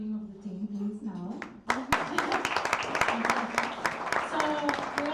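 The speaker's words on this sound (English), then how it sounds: "And another round of applause for very hard working of the team, please, now." An audience at an Astronomy on Tap science talk night in Bonn breaks into applause after a brief spoken line, the clapping swelling into a sustained, fairly distant round.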